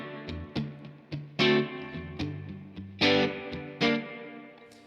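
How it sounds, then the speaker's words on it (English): An electric guitar through a VOX AC10 amp with digital reverb strums full chords, each strike blooming into a splashy surf-style wash that rings and decays between hits. "you're getting those splashes of reverb and really reminding you that this is a surf song"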